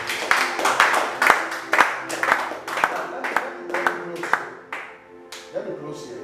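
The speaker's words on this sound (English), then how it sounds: "Give the Lord a clap of hands." A church congregation claps in a steady rhythm, loud and close, with a voice heard over the clapping.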